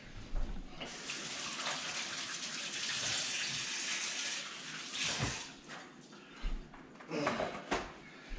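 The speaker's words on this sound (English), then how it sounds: "And wash my hands." Hands being washed under a running kitchen tap after handling gooey cinnamon roll frosting, a steady broadband rush of water that swells and cuts off in bursts, fairly close with no talking.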